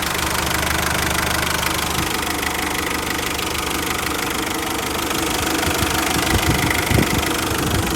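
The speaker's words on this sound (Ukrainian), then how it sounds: "Мотор працює добре." An engine runs loudly and steadily nearby, a constant rumbling idle with a faint rhythmic knock and no voices.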